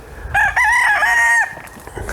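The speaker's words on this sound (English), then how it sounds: "The rooster's following me around." A homestead rooster crows once, a loud, clear drawn-out call lasting about a second, close by in a quiet outdoor setting with faint rustling after.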